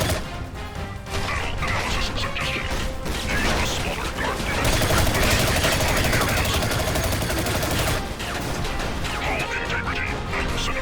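Heavy gunfire from The Chronicles of Riddick: Escape from Butcher Bay video game, a relentless, loud stream of shots and crashing impacts that runs almost unbroken for the whole stretch, growing denser near the middle before easing slightly.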